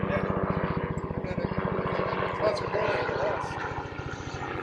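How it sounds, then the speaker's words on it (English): A ranch helicopter on the Arizona Strip near the Grand Canyon thumps in a fast, steady rotor rhythm throughout, loud and close, with engine whine above the beating blades. "We woke up the next morning to the sound of the helicopter from the Bar 10 Ranch."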